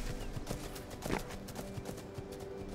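Hooved animals trot in circles around a forest clearing in the video game Valley, a steady run of soft clip-clop footfalls over a constant ambient bed, mid-distance and moderately loud.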